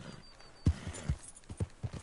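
Horse hooves clopping in an uneven rhythm with a few sharper thuds, close by, over a faint tonal background, in the video game Red Dead Redemption 2.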